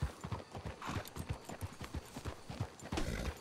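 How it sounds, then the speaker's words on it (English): Horses in Red Dead Redemption 2 walk as they are brought up to be hitched, hooves clip-clopping in a steady, close, moderately quiet rhythm of distinct thuds. "Let's hitch your horses up ahead."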